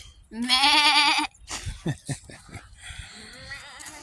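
A goat bleats once, loud and close, a long wavering cry, followed by scattered outdoor noises and brief voices.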